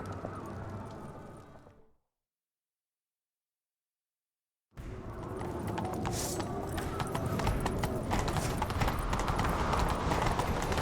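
Horse hooves clip-clop rapidly in a steady galloping rhythm in The Witcher 3 video game, loud and close, after a brief stretch of silence.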